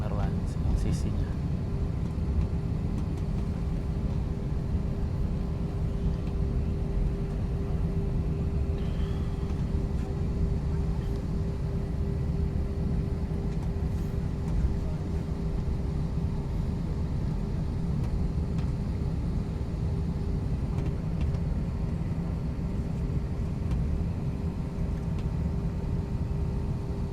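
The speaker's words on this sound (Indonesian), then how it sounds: "Itu yang lagi lepas landas itu Vietjet juga." A Vietjet airliner takes off at Guangzhou airport, heard as a continuous deep engine rumble with a steady tonal whine that stays constant and fairly loud throughout, with a voice speaking over it at times.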